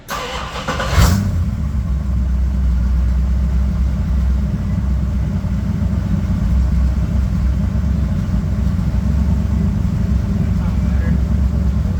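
A Bombardier vehicle engine cranks and catches with a brief burst, then settles into a steady, loud, close rumbling idle that continues without a break.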